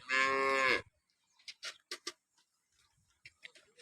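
One short, loud moo from a nearby freshly calved cow, followed by quiet clicking and tapping sounds.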